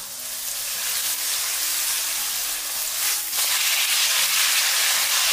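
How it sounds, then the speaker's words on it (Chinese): Tofu pieces frying in a pan to a golden crust, a steady close sizzle and hiss running throughout with a brief louder burst of spitting near the middle. "将底部给它煎至金黄，然后我们再翻过来精炼一面。"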